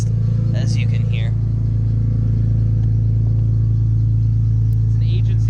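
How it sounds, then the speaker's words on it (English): BMW E46 M3 with 195k miles and a loud Agency Power aftermarket exhaust, a deep steady rumble droning throughout while someone talks over it. "It has a completely obnoxious exhaust, as you can hear."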